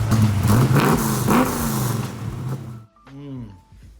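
Muscle car engine with an Anderson N91 cam, loud and rough with uneven rumbling pulses and a raw blip of revs for nearly three seconds, then cutting off to quieter mechanical noise under a voice.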